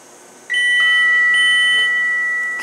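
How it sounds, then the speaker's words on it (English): KONE EcoDisc machine-room-less traction elevator arrival chimes at a hotel ring out loud and close: a few sustained electronic tones that begin together and hold steady, ringing on for about two seconds with no talking. "those chimes are loud"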